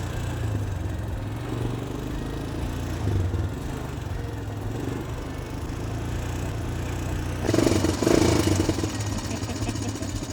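Small motorcycle engine running steadily at an adventure park, with a louder rev burst near the end as gears are clicked up; no talking.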